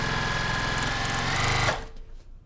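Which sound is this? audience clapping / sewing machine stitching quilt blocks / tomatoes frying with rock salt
sewing machine stitching quilt blocks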